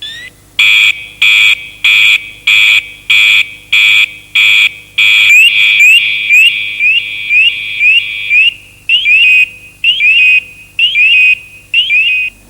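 A firefighter's PASS device alarm sounds loud and close, first as rapid evenly spaced shrill beeps, then as repeated rising warbling tones in short bursts.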